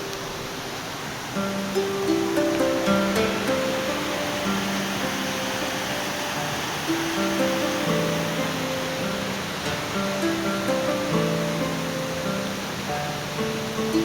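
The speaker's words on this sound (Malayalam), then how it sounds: "ഈ പുഴ, ഈ അരുവി ഫ്രാൻസിസിനെ ഇടയ്ക്കിടയ്ക്ക് സ്വാഗതം ചെയ്തിരുന്നു അത്രേ." Steady rushing water flows continuously, a broad hiss with faint tonal notes drifting through it, and nobody speaking.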